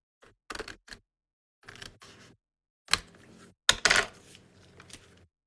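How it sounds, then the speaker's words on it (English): Scissors cut card in a series of sharp snipping bursts separated by quiet pauses, close and crisp, with a few louder clicks toward the end. "So if I just use the scissors"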